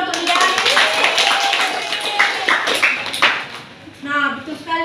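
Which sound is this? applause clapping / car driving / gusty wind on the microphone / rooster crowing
applause clapping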